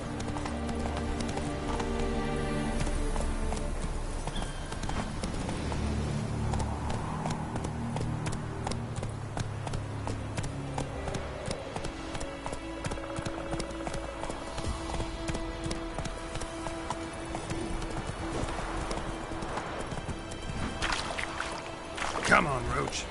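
Roach, a horse in The Witcher 3, galloping with steady rapid hoofbeats throughout, layered with game music and ambient noise, and a voice speaking over it.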